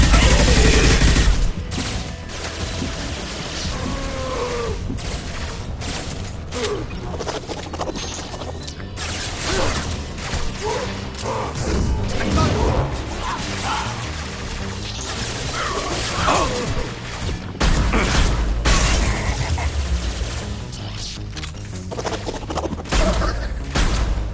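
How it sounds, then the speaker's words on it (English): Gunfire and a heavy high-impact shot in Mass Effect 2 combat: loud sustained bursts of shots and crashing impacts with mechanical clatter, dense and continuous, with voices faintly mixed in. "Firing a high-impact shot!"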